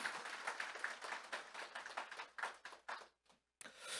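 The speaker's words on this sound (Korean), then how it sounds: "자축의 박수 부탁드립니다." A crowd claps at a mental health day commemoration ceremony, steady dense applause that thins into a few scattered claps and briefly drops out before starting up again.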